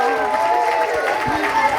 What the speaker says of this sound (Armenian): Կարգում եմ մեր սաներին բարձր ծափահարենք։